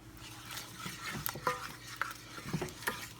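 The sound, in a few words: folding egg yolk into cream pasta sauce in a pan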